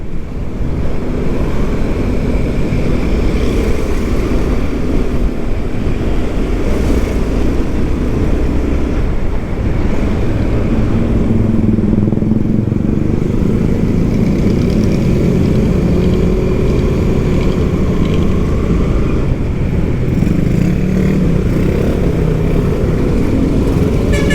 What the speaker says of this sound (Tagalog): Naging 2 stroke na yung kanyang motor